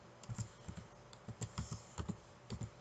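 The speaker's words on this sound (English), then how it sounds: "I'm typing one-handed because I have a pen in one hand" Someone types one-handed on a computer keyboard, producing quick irregular clusters of soft, close key clicks with brief pauses between bursts.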